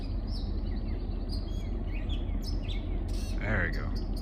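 Small birds call back and forth along an abandoned woodland trail, a few short, thin chirps and tweets at a moderate distance over a soft, steady outdoor hush.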